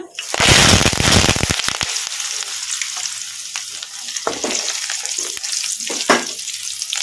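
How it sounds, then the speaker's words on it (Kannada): Garlic and curry leaves hit hot oil with spluttering mustard seeds and cumin, giving a loud, crackling burst of frying that settles into a steadier sizzle with occasional sharp pops. "ಸಾಸಿವೆ ಜೀರಿಗೆ ಚಟಪಟ ಅಂದಿದಾವಲ್ಲ ಈಗ ಇದಕ್ಕೆ ನಾವು ಜಜ್ಜಿ ಇಟ್ಕೊಂಡಿದ್ವಲ್ಲ ಬೆಳ್ಳುಳ್ಳಿ ಕರಿಬೇವು ಹಾಕೋಣ"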